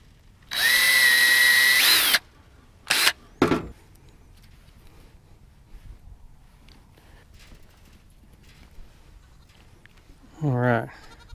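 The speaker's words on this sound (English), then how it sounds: "we're gonna drill a hole on the top of this thing and mount this eye hook" A power drill whirs loudly for about two seconds drilling a hole to mount an eye hook on a hay feed rack, followed by two short bursts and later a goat bleating once near the end.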